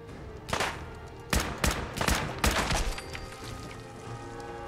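Combat rifle fire in Fallout 4: three bursts of sharp, loud shots around the middle of the stretch. The shots punch through a steady game background hum, with short quiet gaps between the bursts.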